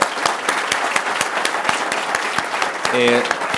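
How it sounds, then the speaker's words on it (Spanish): An audience applauds at the close of a talk, dense continuous clapping with a few louder individual claps standing out, and a brief voice rising near the end. "Un nuevo aplauso."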